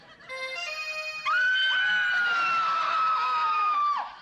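A woman screams loudly and shrilly in a household scene, rising to a sustained high-pitched shriek held for about three seconds after a shorter wavering cry.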